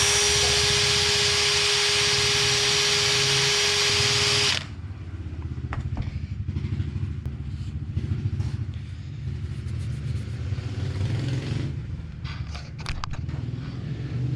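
A power tool whines loud and steady while cleaning the piston of a Toyota FJ40 brake caliper, then cuts off after about four seconds, leaving a workshop rumble with scattered clicks and handling noises.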